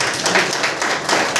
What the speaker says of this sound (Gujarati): તેમનું સન્માન જબરદસ્ત તાળી સાથે કરશે